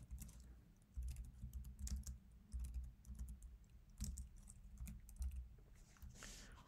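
Steady typing on a computer keyboard while coding, with irregular clicks and key presses running continuously and fairly faintly, close to the microphone and without speech.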